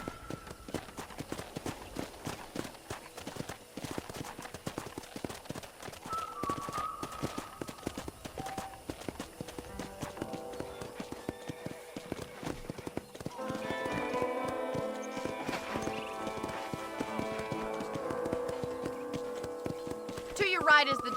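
Horse hooves clip-clop steadily along a ranch in the western game Red Dead Redemption, a clear near rhythm under a character's talking, with music swelling in over the second half.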